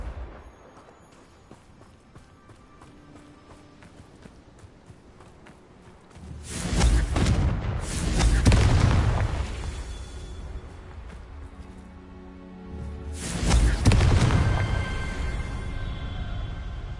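Two fiery Confringo spell blasts from the video game Hogwarts Legacy erupt over a quiet background, the first a longer rumbling burst and the second shorter, each loud and booming before fading.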